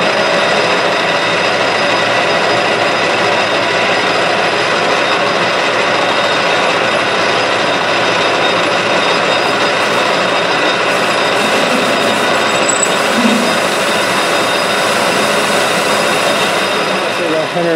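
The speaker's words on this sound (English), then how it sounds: "I'm going to put a groove that's 145 thousandths deep. Just using the parting tool." Parting tool on a metal lathe cutting a thread relief groove, a steady dense grinding, scraping whir running continuously and close for the whole stretch, with faint machine hum underneath.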